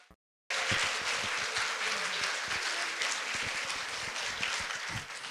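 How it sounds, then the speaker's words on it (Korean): Audience at a forest kindergarten case presentation applauds after the talk; after a brief silence, dense clapping starts abruptly and continues steadily, easing slightly toward the end. "다시 한번 큰 박수 부탁드립니다"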